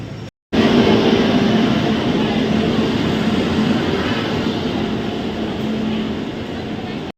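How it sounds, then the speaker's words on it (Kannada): A crowded Namma Metro train travels between Yeshwanthpur and Majestic in Bengaluru, heard from inside the carriage as a constant loud rumble with a steady tonal hum and wheel noise. "ಈಗ ಮೆಟ್ರೋದಲ್ಲಿ ಹೊಂಟಿದ್ವಿ ನಾವು"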